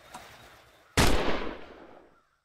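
A single loud, sharp gunshot in the video game The Long Drive cracks out after a short stretch of low background noise, its echo trailing away over about a second.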